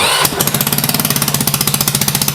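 A Honda Ruckus scooter engine catches after a brief crank and settles into a fast, even, loud popping idle, close by.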